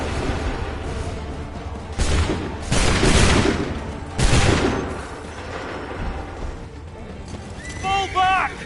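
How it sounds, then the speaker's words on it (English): Musket volley fire in the video game Assassin's Creed 3, heard as two or three loud, broad bursts of massed shots over a dense battle din, with shouting voices and a short higher call near the end. "Make ready! Shoot!"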